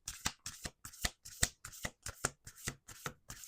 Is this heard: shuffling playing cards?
yes